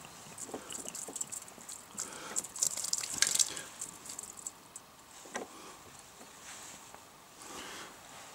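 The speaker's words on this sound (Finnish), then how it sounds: "Sieltähän hetki tippasee aina kun se hanaa laittaa kiinni" Water dripping from a leaking outdoor faucet just after the tap is shut: faint, scattered drips and small splashes, close by and irregular, with quiet background between them and no talk.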